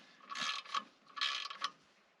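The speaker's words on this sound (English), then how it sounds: "I'm using a fucking Icon torque wrench" An Icon torque wrench ratchets in two short clicking bursts in a garage during a Ford 7.3 IDI transmission swap, close and fairly quiet with no voices.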